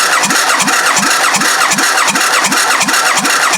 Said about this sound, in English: Right, off you go, Eric, do the crank.